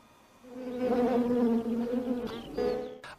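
Honeybees buzz steadily and close, a loud droning hum with wavering pitch that swells and dips over a few seconds, with no voices present.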